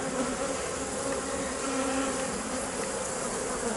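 Honeybees buzzing around an opened, populous hive with frames of honey, a dense continuous hum close by, steady and unbroken, with no talking.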